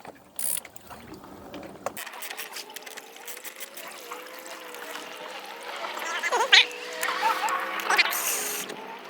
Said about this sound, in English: So that's a 12mm socket.